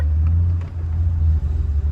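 A right-hand-drive Toyota Supra Turbo with its targa top on gives a loud, deep engine drone from inside the cabin while moving, the steady rumble dipping briefly before resuming.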